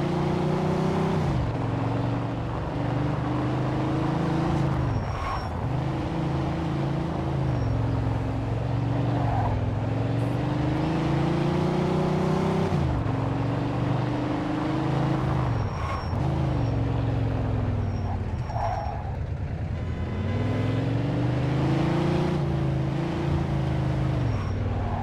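A car driving in the video game Mafia II gives a continuous, close engine drone that rises and dips in pitch again and again as it shifts gears and accelerates. No talking is heard.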